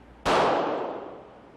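A single sharp report from a .40 caliber pistol firing a 165 grain bullet, a sudden loud bang that decays over about a second, with no talking.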